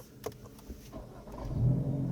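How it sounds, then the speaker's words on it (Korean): Exhaust note of a Hyundai Avante N heard from inside the cabin: a faint, low engine rumble that swells and grows louder toward the end. No one speaks. "확실히 그 밖에서 들리는 배기음 자체가 실내에서 상당히 잘"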